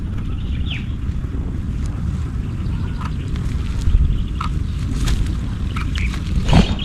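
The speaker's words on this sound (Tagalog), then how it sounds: "Mahangin-hangin pa." Strong wind buffets the microphone outdoors beside a small hut by a bitter gourd and string bean garden, a constant low rumble with occasional faint higher sounds and no speech.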